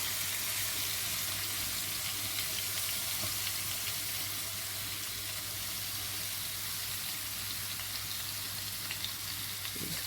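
Pieces of chicken tikka sizzle on a grill over a low flame, a dense, even hiss that runs the whole time with faint clinks, close and without speech.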